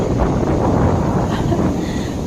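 Strong wind buffeting the microphone at Na Jomtien beach, a steady loud roar with no voices.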